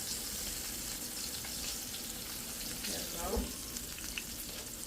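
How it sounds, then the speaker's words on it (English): Hands are washed under a running kitchen tap, a steady close hiss of flowing water with faint splashes throughout. "Let me wash my hands off, guys."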